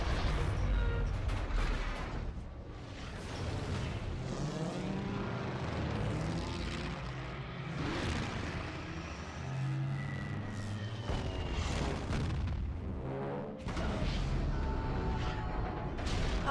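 Aircraft engines roar in archival footage of the Pearl Harbor attack, a continuous loud propeller drone with rumbling blasts and bursts of gunfire layered throughout, no speech.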